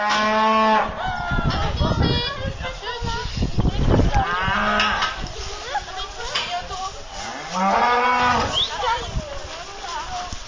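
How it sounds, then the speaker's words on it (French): Limousin cows and a bull on a farm herd lowing repeatedly, long deep moos rising and falling at close to medium range, several overlapping calls with brief gaps between. "dont 50 vaches limousines et un taureau"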